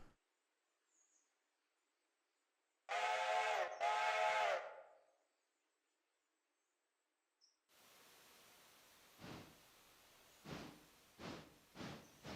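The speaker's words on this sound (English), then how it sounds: "Just soak in some steam train action here." A steam locomotive in the Railroader simulation gives two long, loud whistle blasts in the open, then after a pause the engine starts chuffing in irregular exhaust beats.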